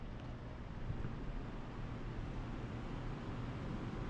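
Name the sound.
loud scroll compressor of an HVAC unit running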